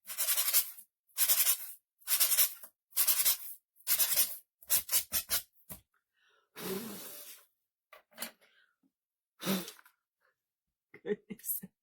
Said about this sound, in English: They needed a little sanding.